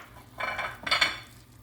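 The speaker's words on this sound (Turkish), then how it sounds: "karıştırıyorum." Stuffing sauce with half a bunch of chopped parsley is stirred in a pan off the heat, two short scraping bursts of utensil against the pan, close and fairly soft.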